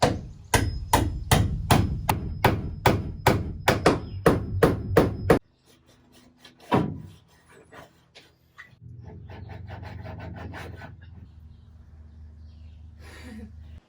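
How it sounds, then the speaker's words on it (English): A hammer strikes a chisel to knock the tabs out of a support beam in a van during a venting bunk window install. About a dozen sharp, close, rapid metallic blows come first, then scattered knocks, scraping and handling noise. "I'm going to take a chisel and a hammer and hit those tabs out, those 4 corners"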